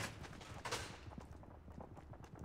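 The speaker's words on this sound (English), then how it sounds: "Where's the gunshots? I don't know where, but I heard some." Faint gunshots in Fortnite Battle Royale, scattered distant pops and bursts mixed with footsteps and low game ambience, with no talk.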